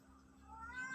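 A cat gives a single faint, rising meow near the end of a quiet moment, with a low background hum beneath it.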